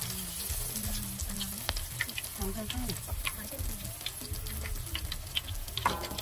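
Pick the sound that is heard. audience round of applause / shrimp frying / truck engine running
shrimp frying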